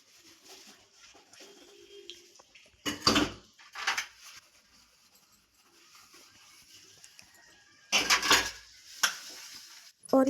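Dishes, pots and pans clattering during washing up in a home kitchen after an iftar meal, with two loud bursts of metal and crockery knocks between quieter handling sounds.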